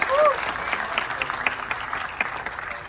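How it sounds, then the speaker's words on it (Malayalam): A theatre audience claps for the actor Jayaram's film, a dense burst of applause that is loud at first and then thins a little, with faint voices underneath. "അവർ കണ്ണന് വേണ്ടി ക്ലാപ്പ് ചെയ്യുന്നത്"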